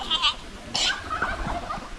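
A goat bleats a few times in short, close cries, one of them after a purging overdose, with light background noise and faint voices.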